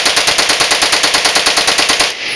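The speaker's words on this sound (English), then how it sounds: "The little brother, the Colt 907 machine gun. This is three shot first." A Colt 907 machine gun fires at an indoor Las Vegas gun store range, a loud rapid string of sharp close shots in an even rhythm that cuts off abruptly.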